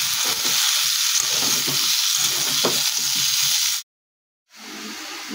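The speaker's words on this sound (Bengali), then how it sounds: "এবার একটু ভালোভাবে একটু কষবো।" Vegetables sauté in a hot pan with salt and turmeric, a loud, continuous sizzle broken by stirring scrapes, then a sudden short silence before the frying resumes.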